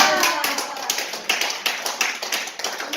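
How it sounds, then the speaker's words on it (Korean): A lecture audience at a laughter-therapy class claps repeatedly, a dense burst of many hands with sharp rhythmic peaks running steadily for several seconds, close and lively, with no voices. "이렇게 박수 한번 쳐야 됩니다"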